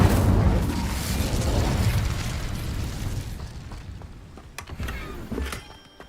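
An Incendio fire spell bursts in the Hogwarts Legacy video game: a loud, rumbling blast at the start that slowly decays into a crackling tail, with a few sharp pops and clicks near the end.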